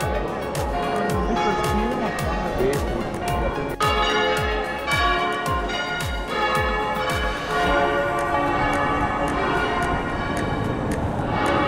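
Church bells in the Lombard town of Crema ring continuously, their overlapping strikes and long hum filling the air over market bustle and people talking nearby.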